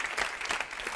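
A television studio audience claps in a brief, dense burst of applause, steady and fairly close, with no voices over it.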